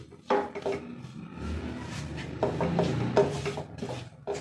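A spoon scrapes and stirs besan (gram flour) roasting in ghee in a pan, giving repeated close rubbing and scraping strokes in an uneven rhythm with no talking.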